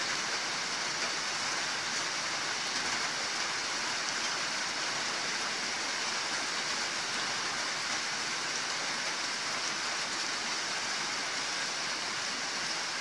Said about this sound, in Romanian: Plouă torențial.